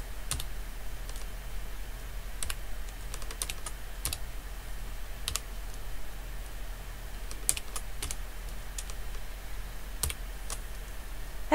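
Fingers typing a spreadsheet formula on a computer keyboard, with quiet scattered clicks and short bursts of keystrokes spread over a low steady hum, no voice.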